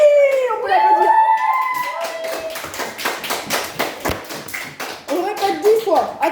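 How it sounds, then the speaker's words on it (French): Children in a French grammar classroom break into a burst of quick, rhythmic clapping, with young voices talking before and after. "Oui, on peut l'applaudir."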